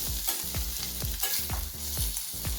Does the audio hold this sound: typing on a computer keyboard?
no